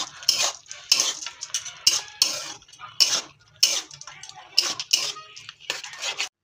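A spoon scrapes and stirs crushed badi into kosila saag in a pan, making repeated clinking metallic strokes in an irregular rhythm, close and clear.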